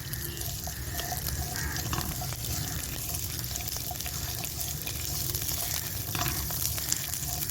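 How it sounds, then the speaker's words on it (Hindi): French beans frying lightly in a tablespoon of oil in a pan, a steady close sizzle with faint clinks running throughout. "पैन में 1 टेबलस्पून ऑयल लेकर इसमें फ्रेंच बीन्स डाल दीजिए और इनको हल्का सा फ्राई कर लीजिए।"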